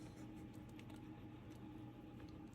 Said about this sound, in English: I'm just going to be typing it for now.